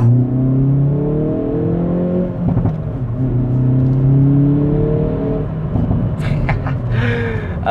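Exhaust of a 2019 Hyundai i30N Performance, a 275 PS hot hatch fitted with the N-Performance exhaust upgrade, droning loudly and steadily as the engine revs and rises in pitch, with some crackle toward the end.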